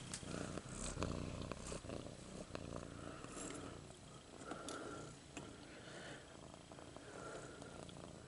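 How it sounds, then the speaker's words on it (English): A pet cat purrs steadily and close by, a low continuous rumbling drone that runs the full length with slight rhythmic swells, alone with no talk over it. "He's purring like crazy."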